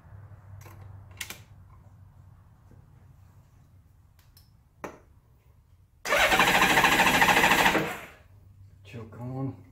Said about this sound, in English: let's crank her over.